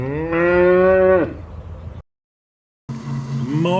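Farm cattle moo during a morning check of the herd. A long, loud, close moo falls off at the end, then after a brief silence a second drawn-out moo begins.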